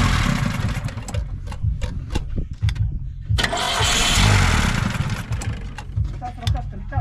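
The old Lada Zhiguli car cranks and catches while the throttle is worked, its mid-pitched engine revving up and settling into a rough idle, close by with people talking over it.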